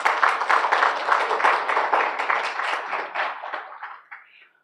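Applause for scholarship recipients at a university anniversary ceremony: dense clapping from a large audience, fairly close and steady, thinning and fading out at the end.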